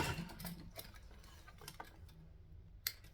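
A sewing machine running a short back stitch, a quick soft run of needle ticks and mechanical clicks, faint and close, with no talk.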